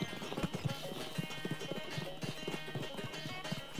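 Rapid, rhythmic hoofbeats of a horse racing at a gallop in Red Dead Redemption 2, steady clip-clop pounding close by with a brief whinny, continuing without pause throughout.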